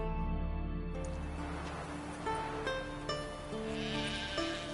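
Sheep bleat several times in wavering, nasal calls, close by, over a low steady background drone, in the video game The Witcher 3.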